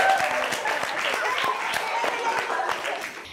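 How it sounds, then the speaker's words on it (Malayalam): Children in a classroom clap together in a loose, scattered burst of applause lasting a few seconds, fairly close and steady with no voices over it. "ഓക്കെ, എല്ലാരും ഒന്ന് കൈയടിച്ചു."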